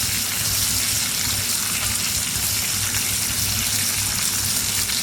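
Onions and rosemary frying in a cast iron skillet give a steady, loud, close sizzle that holds evenly throughout with no voices.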